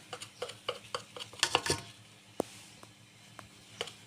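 A knife cuts a freshly baked, still-hot cake in a tray, giving a run of soft scraping and tapping strokes against the metal pan, close and quiet.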